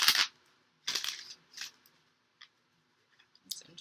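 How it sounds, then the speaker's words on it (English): New, stiff tarot cards are shuffled by hand, giving several separate bursts of crisp riffling and snapping with quiet gaps between them. No voice is heard. "These cards are so hard to shuffle when they're new."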